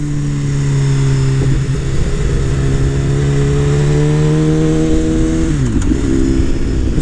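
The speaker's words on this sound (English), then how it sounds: "Like downshift, 3 gears, second gear, super smooth." A sport motorcycle, a BMW S1000RR or KTM 1290 Super Duke R, hums along at steady engine pitch, then drops down three gears into second with a sudden dip in engine tone. It is loud and close, with strong wind rush and no speech.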